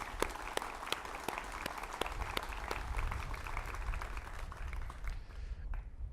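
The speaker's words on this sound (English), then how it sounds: "If you give them all a round of applause." Scattered audience clapping at an outdoor Memorial Day ceremony in Glendale, with sharp individual claps over a soft background that thin out toward the end.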